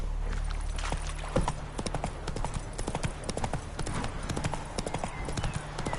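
The horse Roach gallops close by, its hooves striking in a quick, uneven clip-clop rhythm over a low rumble, with no talking.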